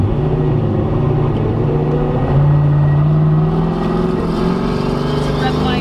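A 1000 hp turbocharged Camaro heard from inside the cabin, its engine droning low and steady, rising slightly in pitch as it pulls harder, with a loud constant rumble throughout.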